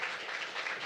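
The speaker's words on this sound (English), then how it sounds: "One more round of applause" A poetry event audience applauds high school poets, a brief soft patter of many hands clapping, steady and somewhat distant.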